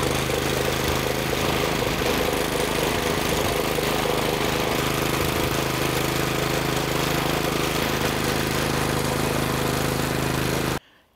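A petrol motor cultivator tilling garden soil in autumn: a loud, close, steady engine drone with mechanical chatter that runs throughout and cuts off abruptly at the end.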